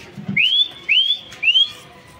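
A man whistles three short, rising calls in a steady pattern to summon pet pigeons in Hyderabad, loud and close with no talking.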